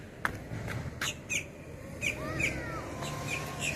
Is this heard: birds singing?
yes